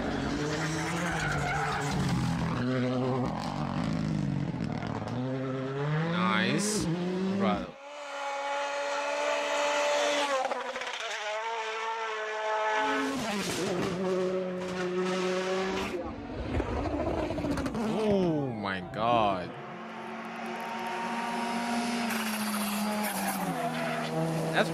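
Rally cars racing flat out on stage roads, engines revving hard and rising in pitch as they pass, with tires skidding and squealing, broken by brief quieter gaps; a person reacts with talk over parts of it.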